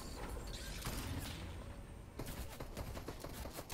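A few sharp, loud rifle cracks in a Fortnite match, closely spaced and ringing out near the listener with no talking.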